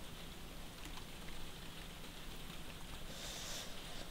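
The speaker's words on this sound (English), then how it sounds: "And it's still raining" Steady, soft rain hiss in Minecraft throughout, an even wash of patter with no voices, fairly faint and continuous.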